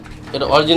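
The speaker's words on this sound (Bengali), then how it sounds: "তো দর্শক বন্ধুরা আমরা আপনাদেরকে কোকার ডাকটা শোনানোর চেষ্টা করলাম" A Kokka pigeon cooing at a pigeon farm, one short rising, throaty coo close to the microphone with a voice talking over it.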